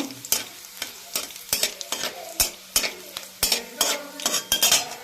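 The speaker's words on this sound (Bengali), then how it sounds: "শুকনো লঙ্কা যে দু পিস ছোটো ছোটো টুকরো করে নিয়েছি আর গোটা জিরে এর মধ্যে দিয়ে দেবো জিরা লঙ্কাটা একদম ভালো করে ভেজে নেব" Dried red chili pieces and whole cumin seeds frying in oil in a pan, a steady sizzle broken by frequent sharp clinks and scrapes of a metal spatula stirring, close and fairly loud, no speech.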